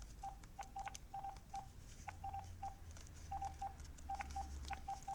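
Keypad button tones from a Clarity D700 cordless phone beep in short separate presses, some in quick pairs and triples, clear and close over a low hum.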